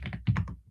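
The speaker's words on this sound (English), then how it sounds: "Don't do no typing. I don't want to hear your Twitter finger going off." A computer keyboard is typed on during a sports talk show, with about five quick close keystrokes clustered in under a second.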